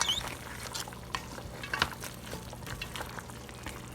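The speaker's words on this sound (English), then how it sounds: "I'm just going to give it a quick stir and make sure that everything is" A pot of Ghanaian palm nut soup is stirred, with soft scraping and liquid sloshing under a faint bubbling simmer, close by and quiet with no talk.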